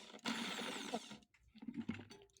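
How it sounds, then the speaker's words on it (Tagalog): A vegetable cutter chops madre de agua and papaya leaves in short bursts, each a brief rough grinding rattle with a quieter pause between them. "pipinuhin po natin sila gamit itong vegetable cutter"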